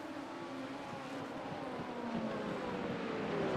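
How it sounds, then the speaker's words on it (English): Racing car engines from a sim racing game during a sportscar challenge round at Long Beach, heard as a steady droning engine hum with shifting pitch that builds slightly toward the end, moderately quiet. "Let's get some car sound up there."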